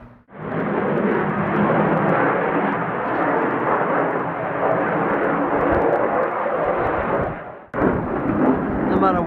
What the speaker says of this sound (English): Look at that Lancaster over there.